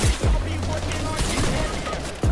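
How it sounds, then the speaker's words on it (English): Gunfire in Fortnite rattles in quick repeated shots, loud and close, with sharp cracks at the start and end over a continuous noisy game backdrop. "I'm getting shot."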